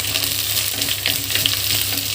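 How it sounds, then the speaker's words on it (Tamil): Onions and green chillies saute in a pan with a dense, close, steady sizzle and light stirring sounds, with no talking. "அது நல்லா வதங்கட்டும்."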